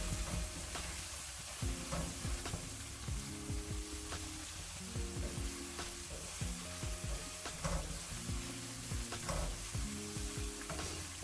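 Two finely chopped green chillies sizzling in a hot pan, a steady close frying hiss with periodic scraping and clinking as the mixture is stirred.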